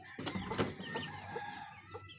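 A mother hen clucks over her six eggs in the nest. Her low, throaty clucks and grumbles are close and fairly steady, with a few sharper calls among them and a faint high bird note in the background.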